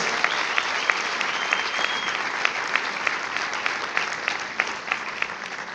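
A large church congregation applauds steadily and continuously during a sermon, dense clapping filling the room without pause.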